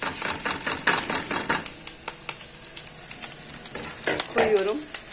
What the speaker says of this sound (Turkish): güzelce kavuracağım ki pilavım tel tel olsun